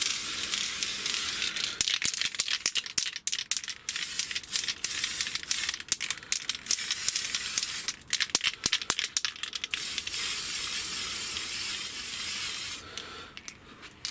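An aerosol spray can lays a first coat of paint on an Escort RS 2000 model car body, giving close, loud hissing bursts of varying length separated by short pauses, with no voices.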